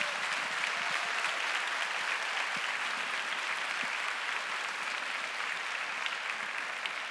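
A church congregation gives a steady round of applause, a soft, even wash of many hands clapping that continues throughout without any voices.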